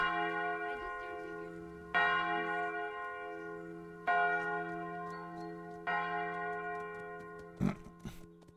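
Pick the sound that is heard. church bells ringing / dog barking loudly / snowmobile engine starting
church bells ringing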